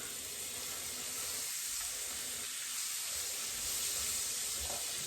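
Bacon sizzles in a frying pan over a fire, a steady, fairly faint crackling hiss that runs unbroken from start to finish.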